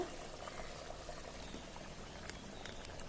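Dried-fish and brinjal curry simmering in a clay pot gives a soft, steady bubbling that runs quietly throughout, with a few faint clicks near the end.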